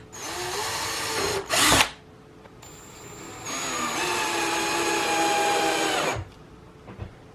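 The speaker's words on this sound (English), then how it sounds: "use a tiny drill bit to pre-drill for these screws" An electric drill with a tiny bit pre-drills screw holes in a shelf, whirring in two bursts, a short one then a longer sustained run with pitch shifts, each separated by clunks and a quiet pause.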